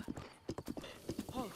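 Horse hooves clip-clop in a quick, uneven rhythm in Zelda: Breath of the Wild, faint and close, ending with a short whinny-like sound.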